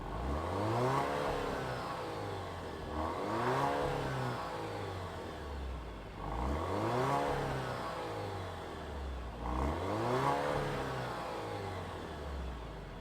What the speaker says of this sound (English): let's fire up our Giulia Veloce and hear what it sounds like